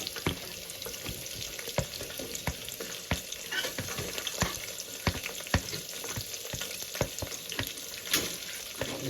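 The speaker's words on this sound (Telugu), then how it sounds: "పోపు పచ్చిమిర్చి బాగా వేగింది. ఇప్పుడు ఉల్లిపాయలు వేసుకుందామండి." Onions frying in oil with a tempering of spices and green chillies make a soft, continuous sizzle, broken by repeated sharp scraping clicks of stirring in the pan, with no talk.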